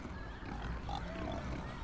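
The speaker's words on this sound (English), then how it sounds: "You can hear the pigs oinking too." Pigs grunting and oinking at a beefcake farm in the Cities: Skylines city-building game, faint animal sounds mixed into a steady low ambient hum of the game.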